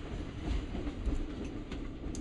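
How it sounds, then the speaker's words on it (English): Train wheels clicking over the rails as a passenger train climbs toward Divisadero at the edge of Mexico's Copper Canyon, a steady rumbling run with soft repeating clacks under the rolling noise. "Do you hear the click, click,"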